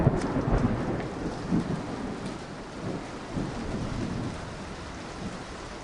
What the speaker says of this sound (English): So here's the rain.